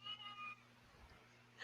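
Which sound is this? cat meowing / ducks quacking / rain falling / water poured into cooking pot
cat meowing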